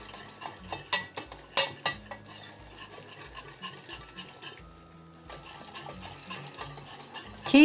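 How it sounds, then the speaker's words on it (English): Flour and fat roux stirred in a pan for a pale white sauce to serve with crispy pork belly, a utensil repeatedly scraping and clinking against the pan in steady strokes with a brief pause midway, close and fairly quiet, no talk. "you actually want to cook this for at least a minute to cook the flour"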